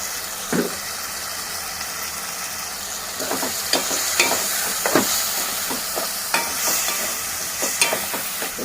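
Chili powder and coriander powder being stirred in a hot pan for a brinjal curry, a continuous soft sizzle broken by irregular spoon scrapes and taps, with a faint engine-like hum underneath.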